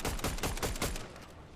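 Repeated gunshots in a Fortnite match, a loud quick volley of several evenly spaced shots over about a second, then tailing off.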